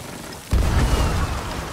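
A cannon firing aboard a pirate ship in the game Sea of Thieves, a single heavy boom that bursts in suddenly and rumbles on briefly.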